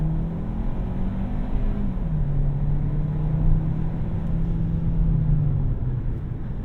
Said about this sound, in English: Come to a complete stop and do a 0 to 60. And floor it.